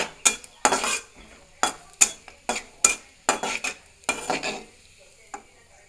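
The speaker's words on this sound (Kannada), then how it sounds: "ಚೆನ್ನಾಗಿ ಬಿಸಿ ಆದ ನಂತರ ದ್ರಾಕ್ಷಿ ಮತ್ತು ಗೋಡಂಬಿಯನ್ನು ಚೆನ್ನಾಗಿ ಫ್ರೈ ಮಾಡಿಕೊಂಡು" Raisins and cashews fried in ghee in a pan, stirred with a metal spoon that scrapes and clinks against the pan in a series of sharp, close strokes with a light sizzle beneath.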